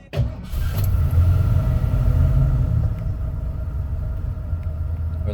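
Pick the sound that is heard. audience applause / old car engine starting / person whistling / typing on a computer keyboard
old car engine starting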